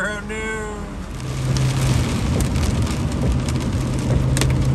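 Rain drums steadily on a car during hurricane-like conditions, a dense broadband patter that grows louder and heavier after the first second, with a brief whistling tone near the start and a low steady hum underneath.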